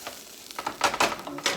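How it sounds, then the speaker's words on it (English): Vegetables stirred into a pan of sizzling shrimp and rice, a short burst of scraping, clattering stirs over a steady close sizzle. "I'm going to add the vegetables back in. And stir this in."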